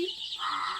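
Young chickens on a poultry farm of about six hundred birds kept under lights give a short, close chirping cluck, a single brief call with faint speech nearby.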